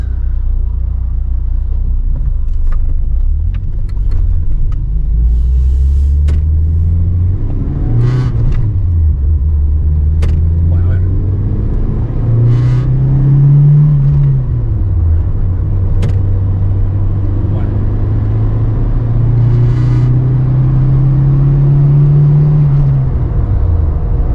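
A 1991 Ford Fiesta RS Turbo accelerates hard from inside the cabin, its loud, steady engine drone rising in pitch through several gear pulls, with a deep rumble underneath throughout.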